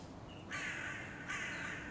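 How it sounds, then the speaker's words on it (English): Crows caw in a horror video game, two loud harsh bursts, the first starting a moment in and the second following shortly after, over a low murky ambient background with no talking. "Oh, there's so many crows."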